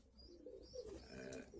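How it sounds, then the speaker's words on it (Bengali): Pigeons at a farm for local and foreign breeds near Boro Khochabari Hat in Thakurgaon are bathing and cooing. Soft, low coos and faint bird calls repeat over a quiet background with no talk. "এই গোসল করছে কবুতরগুলা, খুব রিল্যাক্সে গোসল করতেছে।"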